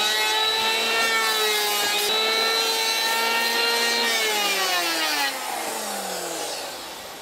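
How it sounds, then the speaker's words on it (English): A hand planer set to a fine cut shaves down the corner of a wooden spar in one long, steady, rasping stroke that slowly tapers off toward the end, close and loud with no talking. "we can just set the planer to quite a fine setting and just shave it away gently until we're down where we want to be"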